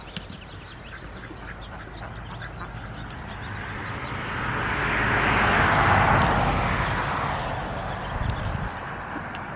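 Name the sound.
ducks quacking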